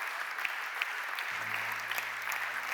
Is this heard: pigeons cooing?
no